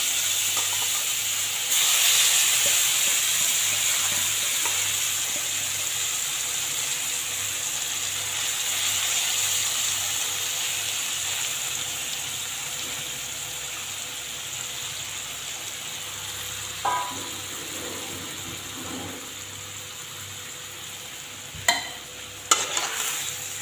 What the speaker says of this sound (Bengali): এখন মশলা মাখা মাছ দিয়ে দিচ্ছি তেলের মধ্যে